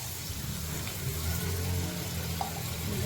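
Water is poured into chicken masala frying in a pan, and the mix sizzles and bubbles with a soft, steady hiss. It sounds faint and continuous, with no voices.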